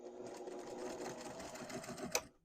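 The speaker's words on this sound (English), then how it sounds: "Now we're going to take this to our sewing machine and we're going to sew at 1/2 inch seam allowance across this corner." A sewing machine stitches a half-inch seam across the corner of a fabric storage cube with a quiet, rapid, even whirr, ending in a brief click as it stops.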